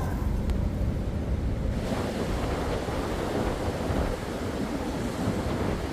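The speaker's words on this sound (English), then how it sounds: "My God, listen to that wind." Strong storm wind during Storm Isha at a roadside camp, a loud, unbroken roar that buffets the microphone with heavy low rumble from start to finish.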